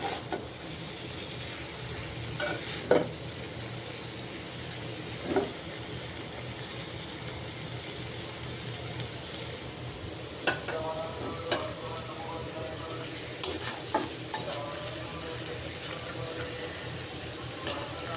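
Cauliflower and cabbage fry in a pan with onion, a soft steady sizzle beneath occasional scrapes and clinks of a stirring spoon, close by and without talk.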